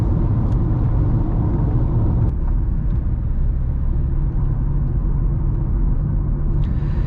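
A Toyota Auris 1.4 D-4D diesel car pulling steadily, its low engine rumble and road noise constant and close throughout, with no voices.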